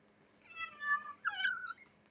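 A pet cat gives two short, high squeaky meows in quick succession as it is picked up, close to the microphone and clear against a quiet background.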